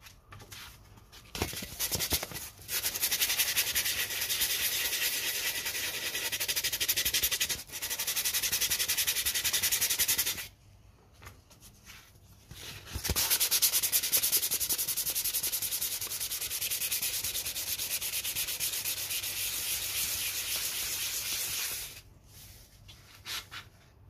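An aluminium phonograph horn is buffed to work out small dings, a close, steady rubbing hiss in long continuous strokes broken by a few brief pauses.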